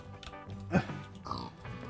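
A pig in Minecraft gives a few short grunting oinks, fairly close, with some game background sound.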